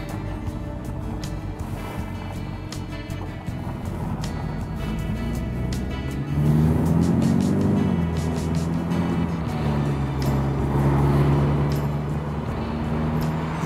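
2015 VW Golf R Cabriolet on the road, a steady driving drone that grows louder midway with engine pitch rising and shifting as it accelerates.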